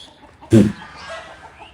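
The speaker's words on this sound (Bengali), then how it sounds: "আর এটা আমাদের দেশি মোরগ" A native country rooster on a farm gives a single short, loud cluck near the start, close by, then the farmyard stays quiet with faint background noise.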